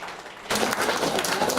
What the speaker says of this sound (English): So by clapping your hands